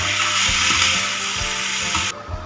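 Tofu filling with green beans being stirred with water and salt in a pan, a steady close sizzle of frying with soft scraping stir strokes throughout, ending abruptly.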